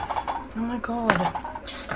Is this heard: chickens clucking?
no